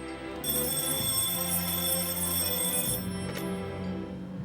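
A telephone rings on a television game show set, a steady electronic ring that sounds clearly for a few seconds with a brief pause, no voices over it.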